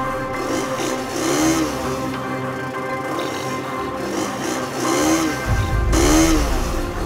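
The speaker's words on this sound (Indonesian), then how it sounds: "suara motornya nggak enak banget" A motorcycle engine running rough in a drama scene, uneven revving with rising and falling pitch sweeps and a sputtering low rumble, fairly loud and close.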